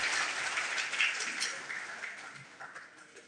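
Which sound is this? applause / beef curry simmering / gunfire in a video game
applause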